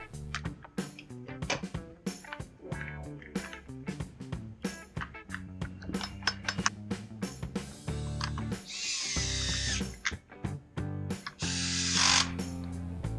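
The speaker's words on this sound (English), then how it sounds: "And then we'll bolt our starter mechanism on." A starter mechanism is bolted onto a Poulan chainsaw, with a close run of quick ratchet clicks and metallic handling taps broken by two longer buzzing bursts from a power driver.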